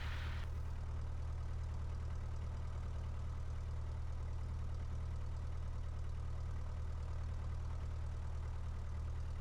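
A light aircraft engine idles with a constant low drone throughout, deep and even, with a brief brighter burst at the very start.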